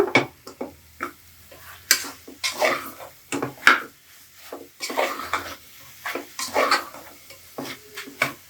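A spoon works masala powders into mutton gravy in a pan, giving repeated scraping, clinking strokes in an uneven rhythm over a soft sizzle. The sound is close and fairly loud.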